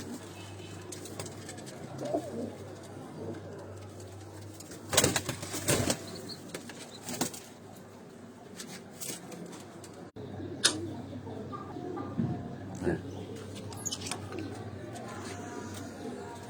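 Sialkoti pigeons sitting on a rooftop loft coo softly and flap their wings in a couple of brief bursts, with faint ambient noise around and no talking.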